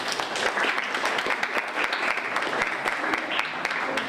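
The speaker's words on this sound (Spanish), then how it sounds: "Bueno, un aplauso." A classroom group at a literature forum applauds another group, a lively patter of claps with distinct individual hand strikes, moderately loud and steady, with faint voices mixed in.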